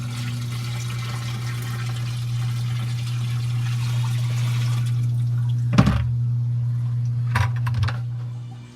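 RODI (reverse osmosis deionized) water pours steadily into an aquarium sump, a continuous close rush over a low pump hum, with a couple of brief knocks near the end and no talking.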